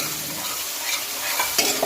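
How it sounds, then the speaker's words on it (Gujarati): A spice mixture with coriander-cumin powder and a little water sizzles steadily in a pan as it roasts and is stirred, a close, even frying hiss with a few small scraping clicks near the end. "મસાલાને બરાબર આપણે શેકી લઈએ"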